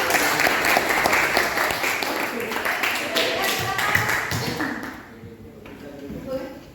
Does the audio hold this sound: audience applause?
yes